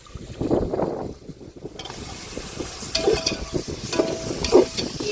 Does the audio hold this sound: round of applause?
no